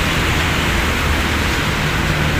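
Steady, loud rain pours down as a dense, unbroken hiss at the Quirino Highway station site of the Metro Manila Subway project, with no talk over it.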